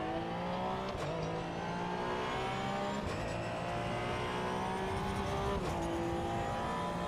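A race car's engine in Assetto Corsa EVO revs steadily and loud, its pitch climbing and dropping through gear changes with sharp shifts at regular intervals, continuous and close with no talk.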